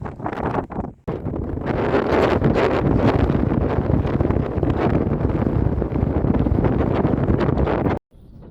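Gale-force wind on an exposed Carneddau mountainside, loud buffeting gusts roaring and battering close against the microphone, broken by a brief lull near the start and cutting off sharply at the end.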